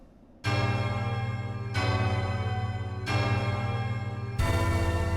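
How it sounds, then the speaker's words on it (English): A large bell in Hollow Knight: Silksong rings out four times, loud, resonant tolls spaced about a second and a half apart, each blooming into a long shimmering ring that overlaps the next. "Ring that bell."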